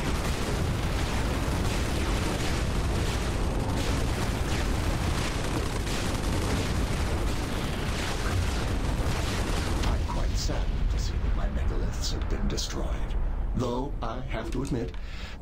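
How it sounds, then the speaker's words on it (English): Explosions in the real-time strategy game Supreme Commander 2 on Xbox 360: a dense, continuous roar of blasts and booming rumble fills the whole stretch, with voices talking over the later part. "Their explosions were quite spectacular."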